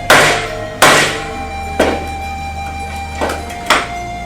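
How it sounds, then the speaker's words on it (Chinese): A hammer strikes a tempered glass screen protector on a phone five times, each a sharp, loud bang with a short ringing decay, spaced irregularly with no talking. "一锤子下去， 几乎玻璃全碎。"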